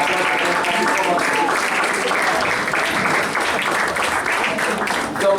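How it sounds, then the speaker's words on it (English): An audience at a university white coat ceremony in Dominica applauds, a dense, continuous wash of clapping that holds steady and loud for the whole stretch without pause. "Can we give a round of applause"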